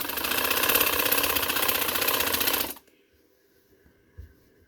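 A sewing machine stitches fine piping onto a neckline, running in a fast, loud, steady whir for under three seconds before stopping. Faint handling taps follow.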